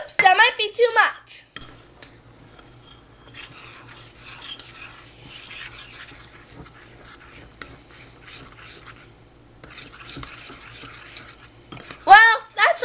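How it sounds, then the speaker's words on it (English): Microwave brownie batter is stirred in a bowl with a utensil, giving a soft continuous scraping and swirling, quiet and close, with bursts of a voice at the start and end. "Then mix it up."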